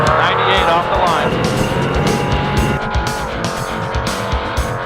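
An off-road race car's engine roars and revs hard as it launches off the start line in a desert race, with rising gear whines and a brief tire squeal, loud and close.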